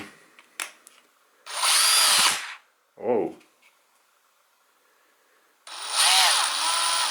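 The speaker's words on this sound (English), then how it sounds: "it sounds very different from the other Black+Decker drills. It sounds more like a more expensive product." A Black+Decker BL188 drill revs in short bursts, whirring loudly for about a second at a time with quiet pauses and small clicks between runs.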